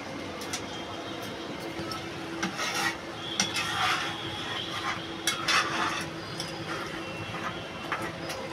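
A knife chops coriander leaves for a Bengali prawn dish, chingri maach kosha: scattered light, sharp taps and scraping on a board at an uneven pace, close by and fairly quiet over a steady kitchen hum.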